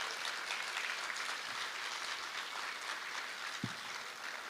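A group on stage at a Sheraton Waikiki awards event receives steady, moderately loud applause from the room, a continuous wash of clapping with a single sharper thump near the end.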